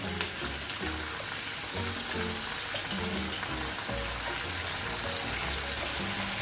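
Garlic and bagoong fry in a pan, sizzling steadily and loudly from start to finish, with soft scraping and bubbling textures and no talking.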